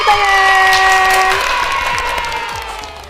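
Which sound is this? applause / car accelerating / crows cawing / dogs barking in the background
applause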